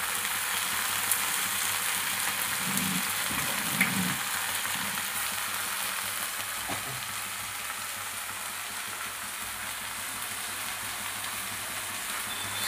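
Chopped tomato sizzling in hot oil in a pan for a jackfruit curry, a steady close frying hiss throughout with a brief stirring scrape near the start.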